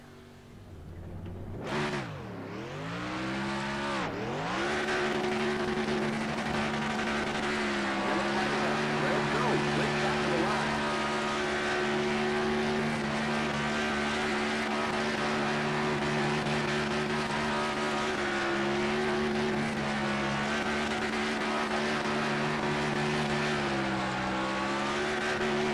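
Race car in NASCAR Racing 2003 doing a post-race burnout: a loud engine revs up and down twice, then holds a steady high-revving roar with tire noise for a long stretch.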